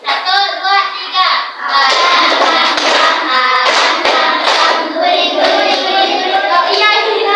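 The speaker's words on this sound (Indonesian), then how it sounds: "Tapi tepuk ya, tepuk sama ininya." Children at a school clapping their hands together in time while singing, the rhythmic claps mixed under young voices in a lively classroom.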